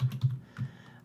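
A few quick keystrokes on a computer keyboard, close and clear, in a short burst with a brief pause before a final pair of taps.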